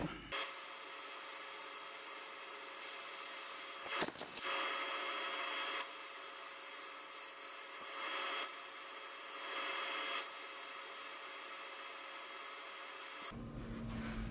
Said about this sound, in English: let's sand it back to expose the wire